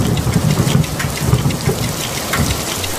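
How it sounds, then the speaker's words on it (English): Steady heavy rain patters on a surface with a dense, loud hiss, and a low rumble of thunder rolls underneath throughout. "It is raining today."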